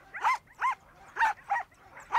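Sled dogs bark and yip in five short, sharp bursts at a quick, uneven rhythm, close and clear against a quiet winter background.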